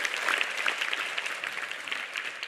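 Studio audience applause, many hands clapping in a steady, even wash of sound that holds at a moderate level throughout without voices.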